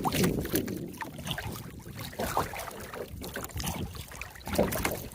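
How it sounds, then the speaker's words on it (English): Gusty wind buffets the microphone while a kayak is out on a cold spring-fed mill pond in Florida, and paddle splashes and water knocks break through the rough, uneven rumble. "This wind is something else."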